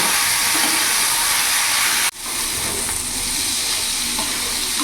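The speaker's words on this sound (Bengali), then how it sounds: "ভাপানো আলুগুলো দিয়ে দিলাম যাতে একসাথে ভাজা হয়ে যাবে" Steamed potatoes frying in oil in a wok, a loud continuous sizzle close by with a brief clatter and dip midway as they are stirred, then steady hissing again.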